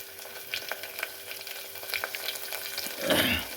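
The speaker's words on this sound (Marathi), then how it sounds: "तर टमाटे टाकून आपण त्याला आता छानपैकी 2-3 मिनिटे भाजून घेऊ" Chopped onion and tomato with coriander and curry leaves sizzle and fry in a kadhai for pasta, a steady close crackle with scattered spatters and a louder stir-and-scrape burst near the end.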